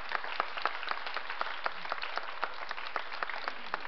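An audience claps for an award winner at the Santa Fe Indian Market ceremony, a sustained, even round of applause with crisp individual claps standing out, moderately loud and free of speech.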